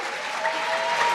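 A short burst of steady audience applause at a dinner celebration, moderately loud and even, with no talk over it.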